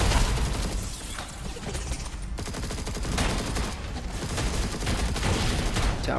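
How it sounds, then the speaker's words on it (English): In the game Master X Master, a tower keeps firing at the player: a dense, continuous stream of rapid gunfire-like shots and impacts holds steady and loud throughout, layered with game effects. "We have a tower there shooting nonsense at me."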